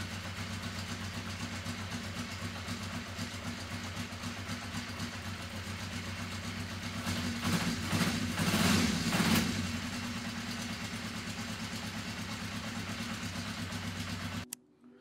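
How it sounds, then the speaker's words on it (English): A 1980 Honda CB650 Custom motorcycle idles while warming up on choke, a steady low multi-cylinder burble that rises briefly in a short rev swell, then settles before cutting out at the end. "So I had the bike running for a brief moment"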